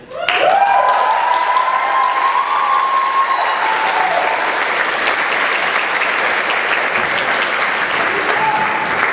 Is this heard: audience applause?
yes